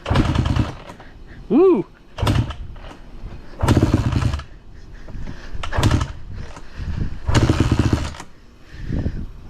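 A Honda CRF150R dirt bike engine coughs and revs in short loud bursts with gaps between them, close by, as a voice whoops and people talk over it.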